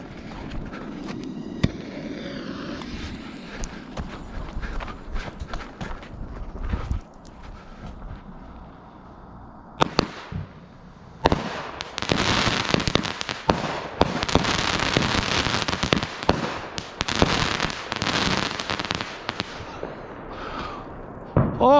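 A backyard fireworks show on New Year's, with rapid crackling bursts and sharp pops at first, then a lull, then dense, loud volleys of crackling explosions and repeated bangs, heard close with no talk.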